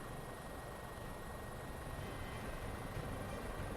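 A helicopter engine runs steadily on the ground, ready for takeoff in the mountains, its loud, continuous rotor and turbine roar filling the whole stretch without a break.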